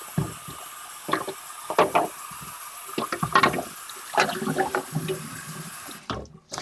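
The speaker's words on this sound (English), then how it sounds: "So I like to rinse that off." Water runs from a tap in a steady hiss while a Shark StainForce canister is rinsed out, with uneven splashing bursts as the water hits the plastic, fairly close, with no talk.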